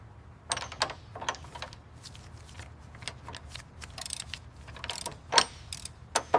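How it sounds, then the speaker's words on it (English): An air ratchet tightens bolts on a car strut during restoration of a 1987 Chevrolet Express concept car, with quick bursts of clicking ratchet and mechanical rattling in short, irregular spurts over a low hum. "After securing the upper bolts, we use the air ratchet"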